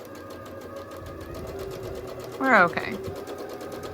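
A sewing machine hums steadily nearby while stitching a seam on a quilt block, and a brief sharp chirp cuts in partway. Someone speaks briefly over the machine.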